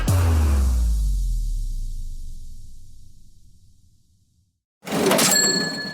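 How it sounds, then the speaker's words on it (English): A cash register rings out as a sound effect for money landing in a Venmo account: a long ringing decay fades to near silence, then a sharp drawer-slam and bright chime cut in. "It's the sound of money hitting your Venmo account"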